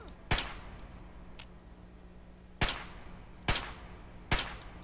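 Gunfire in Fallout 3: four sharp, separate shots ring out at irregular intervals over a quiet background, with a faint extra crack early on.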